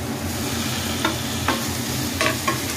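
Onions fried golden brown with chopped tomato are stirred in a pan for a Bengali prawn chorchori, a steady sizzle underneath with a few short scraping strokes of the spoon, close and fairly loud.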